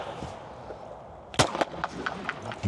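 A single sharp, loud shotgun blast from a Zoli Z-Sport fired close by, followed by a few fainter clicks and knocks as the gun is handled.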